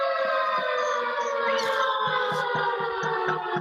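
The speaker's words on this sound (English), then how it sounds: "That was the siren that telling us that we're at 40 minutes." A long, steady siren drones on without a break, marking forty minutes elapsed, a sustained harmonic tone with faint thumps and background noise beneath it.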